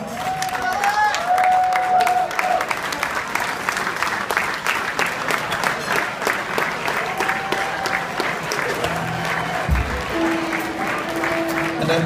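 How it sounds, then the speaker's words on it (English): Guests at a wedding reception give the newlywed couple a long round of applause, steady and full throughout, with faint voices and tones beneath the clapping. "Let's give them a nice round of applause"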